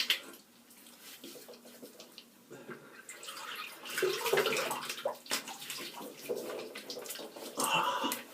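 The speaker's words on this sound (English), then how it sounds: "I'm just going to rinse my face." Water running from a tap while a face is rinsed after a shave, quiet splashing and trickling with hands scooping water, close and intermittent.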